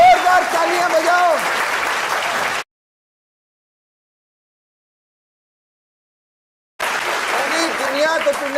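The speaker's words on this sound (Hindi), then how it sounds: "जोरदार तालियां बजाओ।" A crowd at a Bigg Boss 17 winner's celebration claps loudly while voices talk over it. The clapping is split by a few seconds of total silence before it resumes.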